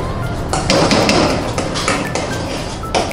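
Metal utensil scrapes and taps in a pan of mashed potato with butter, steady clinking and scraping sounds running close and fairly loud throughout.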